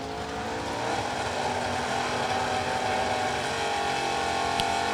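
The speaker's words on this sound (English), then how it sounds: "Little 66 Chevy 2. 327 and a 4-speed." A 1966 Chevy II with a 327 engine and four-speed manual gearbox at a Dallas drag race, its loud, steady engine roar filling the whole stretch without any talking.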